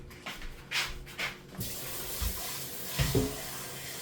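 Tap water runs steadily into a pot holding three cups of rice for a one-pot chicken and rice dish, a soft hiss of flow after a few handling knocks, fairly quiet and close.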